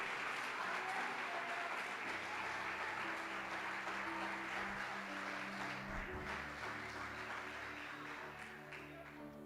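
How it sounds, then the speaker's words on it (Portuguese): A large congregation applauds steadily in a reverberant church hall, a dense wash of clapping that holds for the whole stretch and eases slightly toward the end. "Se é para aplaudir, aplaude com gosto."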